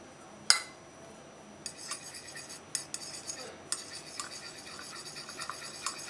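Egg yolks being whisked into light cream for crème brûlée, a run of light metallic clinks and scrapes against a bowl, quiet and close, with one sharper tap near the start.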